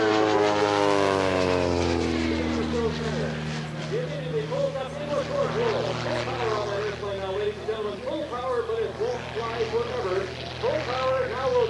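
A Pitts S-2 aerobatic biplane passes low over an airfield, its propeller engine droning loudly and then shifting in pitch as it moves, while a commentator talks over it throughout.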